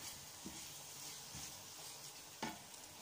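Tomatoes being stirred in a frying pan for a spiced rice dish give a soft, steady sizzle with a few light scraping strokes and one sharper clack of the spoon, faint and close.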